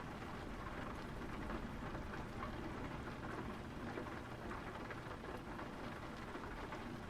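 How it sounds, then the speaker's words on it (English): Steady rain from the Euro Truck Simulator 2 driving game, a soft, even hiss of falling drops that continues unbroken at low volume with no voices. "let's hope this rain doesn't stick around"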